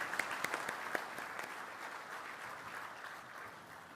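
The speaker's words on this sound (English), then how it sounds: "Another round of applause for these guys." Audience applause at a Land Forces Pacific conference, a room full of steady clapping with a few sharper claps at the start, gradually thinning out.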